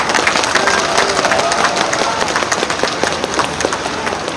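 Crowd applause and scattered cheering at an outdoor street campaign rally, a dense, steady wash of clapping that stays loud and close for the whole stretch, with faint voices mixed underneath.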